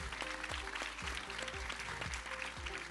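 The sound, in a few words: audience applause for guests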